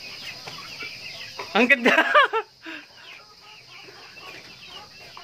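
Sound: free range chickens clucking

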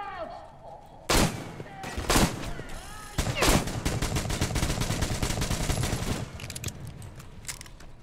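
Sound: machine gun fire in video game Metro Exodus

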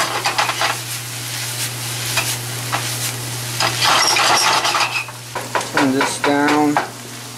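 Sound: onions and meat frying in a pan

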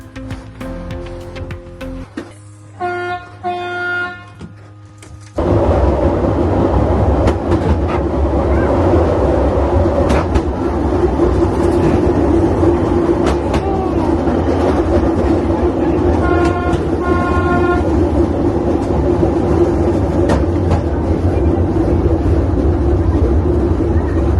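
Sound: small tourist train riding

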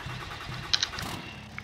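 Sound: truck engine starting in Farming Simulator 22 video game

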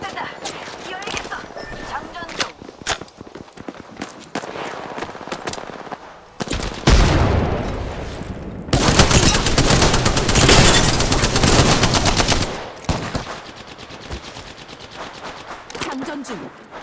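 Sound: gunfire from the video game Apex Legends

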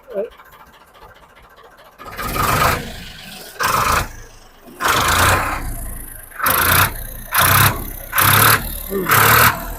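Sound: Sonalika tractor engine started and idling

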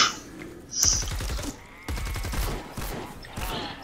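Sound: burst-fire gun shooting in Fortnite Save the World video game

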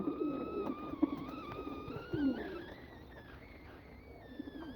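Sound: pigeons cooing in a cage

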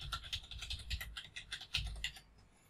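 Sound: typing a password on a computer keyboard

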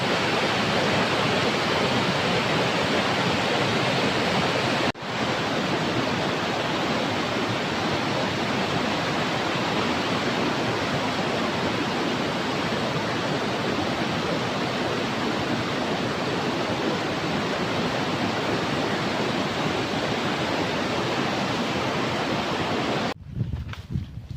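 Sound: waterfall from melting snow flowing down a mountain

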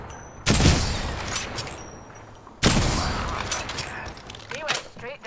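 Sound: gunfire in the video game Apex Legends

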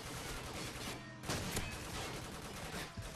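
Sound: light machine gun (LMG) fire in video game Call of Duty 4

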